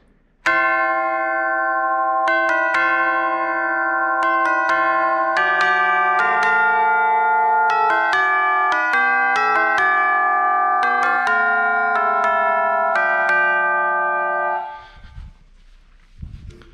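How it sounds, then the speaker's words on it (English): Tubular bells ring out a melody of movie music, each struck note blooming into a rich, sustained metallic tone that overlaps the next, loud and resonant before cutting off near the end. "Tubular bells."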